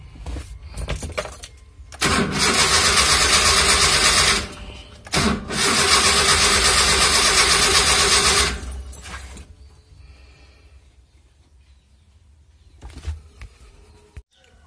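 Maruti Omni car with cleaned spark plugs cranking but failing to start, two long loud bursts of whirring starter motor separated by a brief pause, then quiet with faint clicks.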